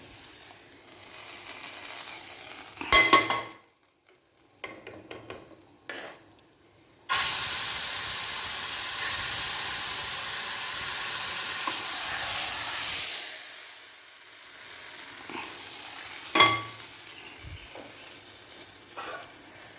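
Onions and curry leaves frying in hot oil give off a loud, steady sizzle, with a few stirring scrapes and clinks in between.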